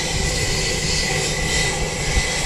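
A Sounds Air passenger plane arriving at Wellington Airport gives off a continuous loud engine roar with broadband rushing noise, steady and close, with no voices.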